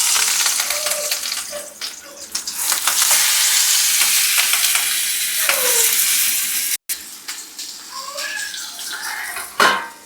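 Fish fries in oil inside a banana leaf in a pan, giving a steady crackling sizzle with occasional clinks and scraping stirs, loud and close.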